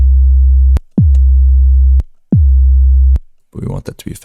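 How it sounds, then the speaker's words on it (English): Serum-designed 808 kick with a pitch bend, a few deep booming hits with a sharp downward pitch sweep at the attack, loud and sustained, followed by a brief burst of other synth sounds. "You can hear the pitch bend,"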